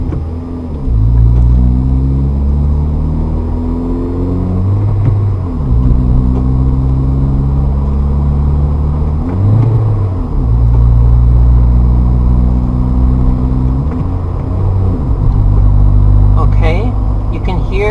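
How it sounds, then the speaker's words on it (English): A car's engine revs up repeatedly while the gas is pressed with the clutch disengaged during an upshift, each rise climbing in pitch then dropping back, a loud steady rumble throughout with brief gaps between revs. "The car kind of rev up when the clutch is not engaged"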